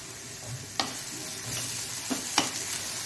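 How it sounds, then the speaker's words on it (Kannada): Prawns for a Mangalorean dry prawn and mango curry frying gently on a low flame, giving a soft, steady sizzle broken by three brief utensil scrapes, close and quiet with no talking. "ಸಣ್ಣ ಉರಿಯಲ್ಲಿ ಈಗ ಇದನ್ನು ಚೆನ್ನಾಗಿ ಫ್ರೈ ಮಾಡ್ಕೊಳ್ಳೋಣ"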